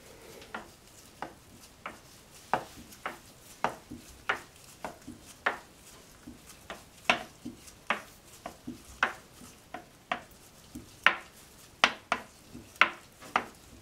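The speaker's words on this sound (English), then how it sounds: "Okay, so I'm gonna do a spoon swirl. I'm trying to figure out which. I think I'll use the big spoon here." A big spoon works through thick peppermint soap batter, giving soft, wet clicks and taps in an irregular, fairly steady rhythm, close and quiet with no voices.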